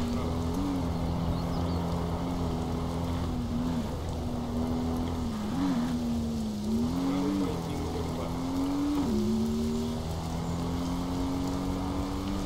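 A Land Rover Freelander rally car in the video game Colin McRae Rally 2005, with an engine whine that holds steady and then rises and dips through gear changes, fairly quiet and continuous, with no talking.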